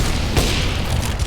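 Dense gunfire and a booming burst in a CS:GO match as grenades, smoke and incendiaries are thrown, with one sharp blast standing out amid continuous shooting.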